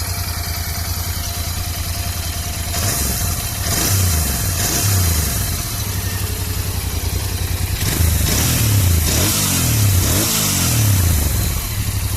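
A Royal Enfield Interceptor 650 fitted with an SS Moto full exhaust system idles with a steady low rumble, then is revved hard in two bursts of repeated throttle blips, loud and close.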